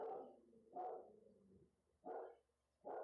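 A young dog about eight or nine months old barks upstairs, three or four muffled, faint barks spaced roughly a second apart, heard from another floor of the house.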